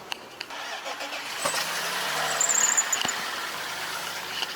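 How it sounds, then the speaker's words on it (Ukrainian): An old BMW car engine cold-starting: a broad, steady mechanical roar close by that builds slightly and holds, with a few sharp clicks near the start and no voices. "Запуск, холодний запуск."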